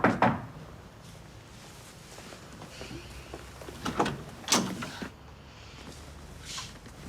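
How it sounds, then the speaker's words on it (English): A main door opens in a domestic drama scene, heard as a few faint clicks and knocks of a handle and latch spread over several seconds in a quiet room. "The main door's open."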